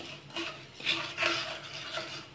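Coriander seeds dry-roasting in a pan over low heat, stirred in a few soft scraping, rattling passes with brief louder swishes, close and fairly quiet, no voices.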